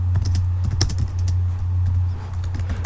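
Typing on the keyboard of a PowerBook G4 15-inch 1.67GHz laptop, a steady run of close, crisp key clicks over a constant low electrical hum, with no talking.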